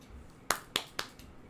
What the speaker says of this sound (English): Snaps for Michael Oliver.